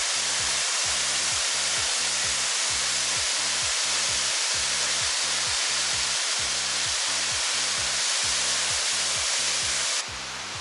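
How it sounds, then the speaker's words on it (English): Nut Dip Falls in Tasmania pouring as a raging torrent, a steady broadband roar of rushing water that holds unbroken and loud from start to finish, with no voices over it. "This has just become a raging river"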